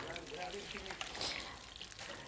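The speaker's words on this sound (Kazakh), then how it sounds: "Сып тұрған майымызға қуырып аламыз." Chicken pieces for homemade KFC-style chicken fry in hot oil with a dense crackling sizzle and scattered sharp pops, while a voice is faintly present underneath.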